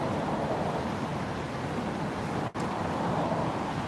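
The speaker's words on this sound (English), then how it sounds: "it's windy" Steady broadband wind rush buffeting a microphone outdoors in Ginza, Tokyo, for a few seconds, with one brief dropout near the end; no voices.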